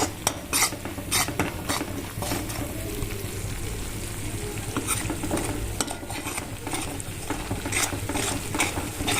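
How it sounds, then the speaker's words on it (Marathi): Stuffed brinjals fry steadily in hot oil in a pan, with a continuous sizzle, occasional spatters and a stirring scrape close by and no talking. "आता ही तुम्ही बघू शकता तेलामध्ये छान असा भाजला जातोय"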